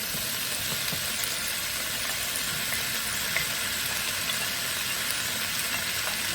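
Charred jambalaya ingredients go back into a hot pan, a continuous even sizzle holding at moderate loudness with a faint steady hum behind it and no talking.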